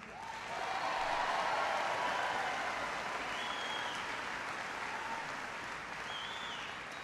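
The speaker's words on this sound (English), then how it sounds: "Please, a big round of applause for your Attorney General," A town hall audience in Los Angeles claps for the state Attorney General, steady broad applause rising quickly and holding evenly for about seven seconds, fairly soft and distant with a faint whoop or two above it.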